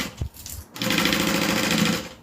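A sewing machine stitches a bag in one close, steady burst of rapid rhythmic clatter after a short pause and a faint knock, running evenly to the end.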